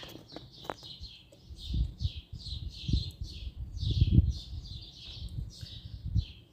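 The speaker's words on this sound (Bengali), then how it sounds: "বাহিরে পাখির কিচিরমিচির সুন্দর শব্দ" Birds chirp outdoors in a quick string of repeated bright calls, with low rustling and soft knocks underneath.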